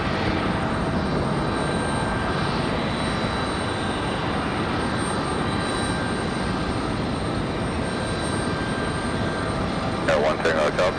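An Airbus A220 jet at Raleigh Durham International airport gives off a broad, steady engine roar at close range, sustained throughout, with a person speaking over it.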